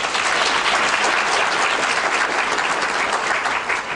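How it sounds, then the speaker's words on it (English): Conference attendees at an African American conference applaud themselves, a full, dense wash of clapping that stays loud and steady from start to finish. "Give yourselves a round of applause."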